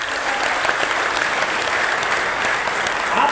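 An audience at a Hindi motivational talk claps steadily, a dense and even round of applause that fills the whole stretch with no pauses.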